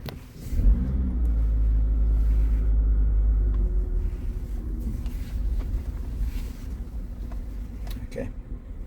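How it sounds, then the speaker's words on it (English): A car with an installed reverse camera and parking sensors rolls forward on wet ground, a close low engine rumble that swells in the first seconds and then eases, with light clicks and bumps. "Just drive forward again to get out of the"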